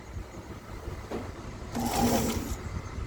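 A sewing machine stitches along the edge of a crochet baby blanket, a steady mechanical whir that rises into a faster, louder burst midway, close by, with no talking.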